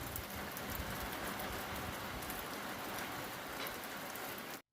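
Steady rain hisses evenly and close by, with no voices, then cuts off abruptly at the very end.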